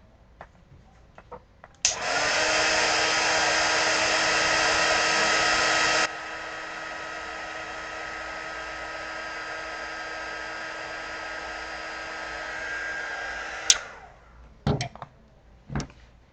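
A hair dryer blows on watercolor paint in a steady whooshing roar for about twelve seconds. The roar drops to a lower setting partway through and then clicks off, followed by a few small handling taps.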